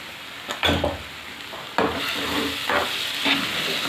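Eggplant bharit being mixed in a hot pan, soft sizzling beneath a few distinct scraping and clattering spatula strokes, close by with no talking.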